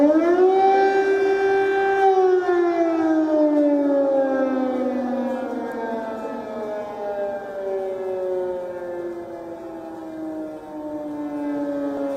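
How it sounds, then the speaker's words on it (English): Air raid sirens wail over Kyiv at night, a loud, sustained civil-defense tone that rises and then slowly slides downward, droning on alone with no voices. "Sirens in Kyiv continue to ring through the night."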